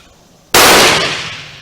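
A single loud rifle shot from a Swedish Remington rolling block 1867/89 firing a reloaded round at an outdoor range. It is a sharp close blast that decays into a brief ringing tail after a quiet start.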